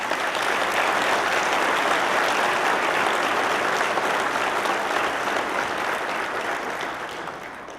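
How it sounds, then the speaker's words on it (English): An audience at a firefighter, police and EMS awards luncheon applauds steadily, a dense continuous wash of clapping that holds level and then slowly tapers off. "One more round of applause for Officer Myers."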